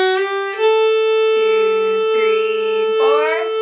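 A fiddle plays a short phrase of the traditional tune The Wren, pickup notes included, with sustained bowed notes and shifting pitches, clear and close with no talking.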